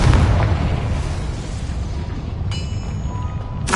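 A Confringo spell blast in Hogwarts Legacy: a loud, dense rumbling boom that fills the whole stretch, with a couple of brighter crackling bursts near the end.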